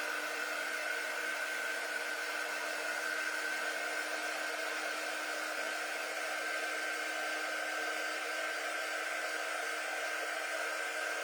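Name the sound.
hair dryer drying a chalk paint transfer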